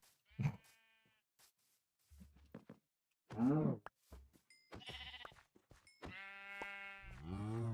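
Sheep in a Minecraft hardcore survival game give several clear, synthetic bleats in bursts. Bleats and other game sounds are spaced through the stretch, and no one talks.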